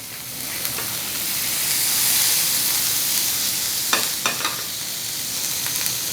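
A sirloin steak sizzles loudly in a hot pan, a constant close frying hiss with a few crackles and pops and no voices.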